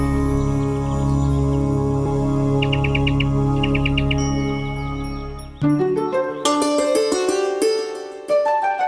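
High bright chirps and tinkling tones over a steady droning background in a Hindi cartoon, with a sudden burst of sparkling, bell-like bird calls in the second half.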